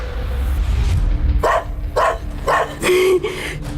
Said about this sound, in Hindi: प्यारा कुत्ता।